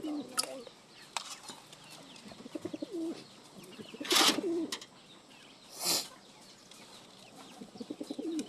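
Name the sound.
pigeons cooing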